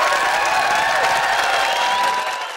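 A studio audience applauds and cheers after a live band plays the IT Crowd theme, sustained dense clapping with whoops that stay loud and then begin to taper near the end.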